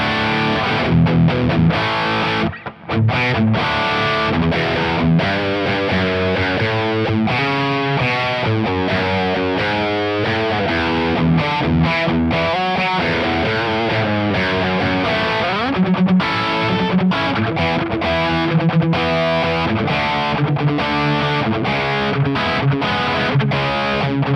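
Heavily distorted SAITO S-622TLC HH electric guitar playing a loud, continuous riff with sustained crunchy chords and fast note runs, filling the whole stretch without pause.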